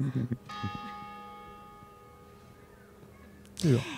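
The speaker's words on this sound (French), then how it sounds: "je vais attendre la cloche" A church bell rings out with a clear, sustained tone, a single strike decaying slowly over several seconds while a voice talks briefly at the start and again at the end.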